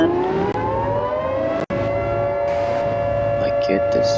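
A tornado siren in the video game Garry's Mod wails in a loud sustained rising tone that holds steady, with a brief cut in the middle and faint background noise, and no talking.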